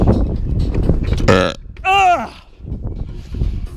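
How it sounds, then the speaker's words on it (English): A man lets out a long, loud burp in the middle of heavy outdoor work pulling a weighted sled, with his own talk and breathing around it. "Great burping."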